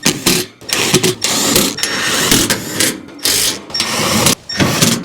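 A Makita impact driver fitted with a small socket drives screws into the top panel of an outdoor A/C condenser unit, giving repeated loud bursts of rapid mechanical hammering, each roughly a second long, separated by brief pauses.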